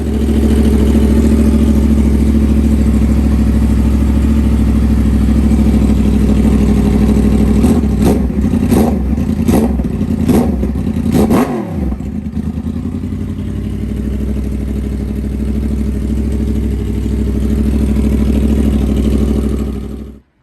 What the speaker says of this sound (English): This thing sounds crazy with that exhaust off. It sounds like a V8 truck. I'm gonna start it up